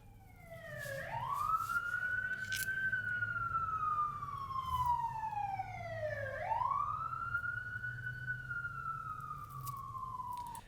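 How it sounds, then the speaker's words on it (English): A loud wailing siren rises and falls in long sweeps, steady and close, with a low engine rumble underneath. "Is it just me? Or are you guys hearing sirens?"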